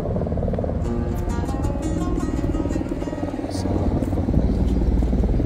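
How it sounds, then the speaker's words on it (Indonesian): An aircraft circling overhead on an afternoon near the Quba Mosque construction area, a steady droning engine rumble that fills the scene, loud and continuous, with faint outdoor ambience and no talk over it. "pesawat masih keliling terus di sore hari kali ini ya"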